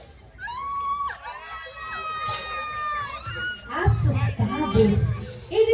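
Children in a theater audience at a stage play scream in shrill, overlapping shrieks that rise and fall, followed by a louder burst of crowd noise and voices.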